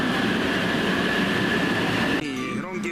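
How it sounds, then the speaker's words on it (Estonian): A train pulls into a station in Japan, a loud, close, continuous rumble of wheels with a steady whining tone that shifts into squeals and rattles as it slows near the end. "rongi uus tulemine"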